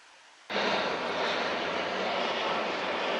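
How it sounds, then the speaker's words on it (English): A loud, broadband airplane roar abruptly fills the air overhead and stays steady, with two planes passing close above in Albania. "Now two planes again."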